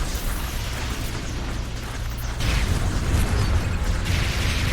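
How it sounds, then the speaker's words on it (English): Airstrike explosions in the game Sanctum, a dense, continuous roar of blasts that swells louder halfway through and keeps rumbling without pause, with no talking. "Ah, gotta love airstrikes."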